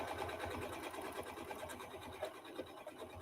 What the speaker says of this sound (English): The machine takes 1 stitch and stop to allow me to pull up on my bobbin thread.